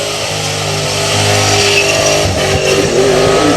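A Holden VN Commodore engine roars at full power during a burnout at Southcoast Raceway, a loud, sustained revving drone with slight pitch shifts as it holds second gear.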